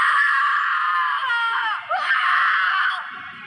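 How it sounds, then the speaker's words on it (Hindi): A long, loud shriek of a person being attacked by spirits in a haunted mansion, held at high pitch for about three seconds with wavering, breaking tones before it tapers off, alone. "उसकी चीखें सुनाई दी"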